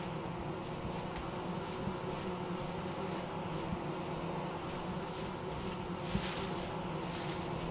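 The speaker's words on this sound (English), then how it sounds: "I hear bees right here." Bees drone near a beehive in the video game Vintage Story, a faint continuous buzzing over a steady hum with no voices.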